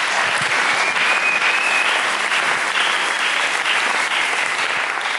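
A church congregation applauds to acclaim the Lord, with dense, loud, sustained clapping from many hands filling the room without a break.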